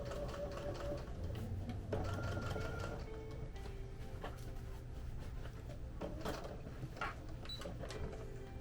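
Sewing machine stitching fleece plush fabric, quiet bursts of rapid mechanical chatter with pauses and small clicks between runs, close and faint.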